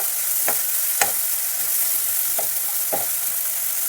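Onions and curry leaves fry in a pan under a constant bright hiss of hot oil, with a few soft scraping stirs spaced about a second apart.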